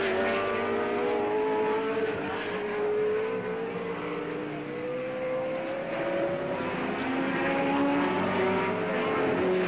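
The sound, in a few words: racing car engine at 1968 Warwick Farm race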